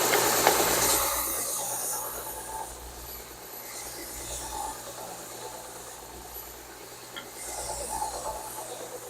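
A belt sander runs against wood with a continuous rushing hiss and whir that swells and fades as the sander slides along the board, with no one talking.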